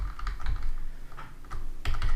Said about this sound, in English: and use my arrow keys